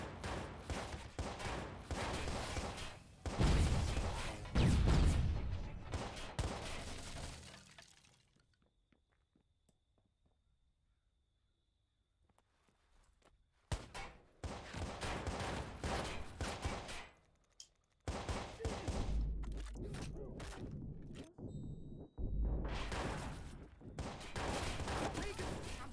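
Video game gunfire crackles in dense bursts of rapid shots, loud and close, then stops for a long near-silent stretch before more volleys resume alongside other game sounds.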